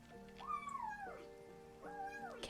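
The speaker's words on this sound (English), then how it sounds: "Cat noises." A cat meows twice, the first call longer and rising then falling, the second shorter, both fairly close and clear in a quiet indoor room with no talking over them.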